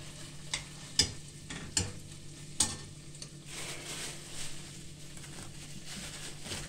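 Onion, garlic and tomato paste sautéing with meat in a pan, a soft steady sizzle broken by a few sharp spoon scrapes and taps against the pan, quiet and close.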